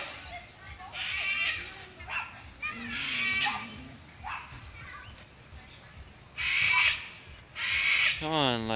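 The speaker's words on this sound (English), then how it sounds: "today we are taking you guys for a walk with this big dog barking at us" A big dog barks during an outdoor walk, letting out several separate, fairly loud barks at uneven intervals over quieter background noise from the outdoor setting.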